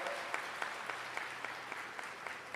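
Congregation applause in a church service, a fairly quiet, steady patter of clapping with a few sharper claps standing out, continuing evenly throughout.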